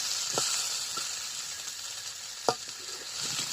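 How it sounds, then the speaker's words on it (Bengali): New potatoes frying in oil in a village kitchen, a steady close sizzle with a few sharp clicks and scrapes of a spatula against the pan, no voices. "আলুটা বেশ সময় ধরে ভেজে নেব"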